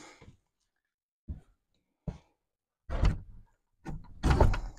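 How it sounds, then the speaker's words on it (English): Someone works the old wooden door of an abandoned miner's cabin, making a string of scrapes and knocks that grow louder, ending in a heavy rattling shut close by, with no speech. "Close this door."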